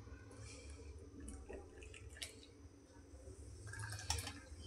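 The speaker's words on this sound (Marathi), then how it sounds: "आणि आता हा गुळाचा चहा ओतून घेते." Jaggery tea is poured from a pot into cups, giving a quiet, steady trickle with a few faint drips against a low background hum.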